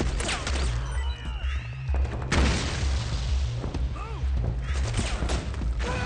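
Heavy suppressing gunfire and explosions rage in Metal Gear Solid 4: Guns of the Patriots, with loud booms and rapid bursts filling the scene, a big blast hitting midway, and faint shouting under the din.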